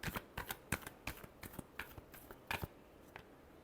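Tarot cards are shuffled by hand in a quick series of soft riffling bursts and flicks, close and fairly quiet, with no voices.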